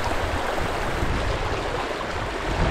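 Water rushes steadily through a partly broken-out beaver dam, a loud, continuous broadband gush that stays close and even throughout.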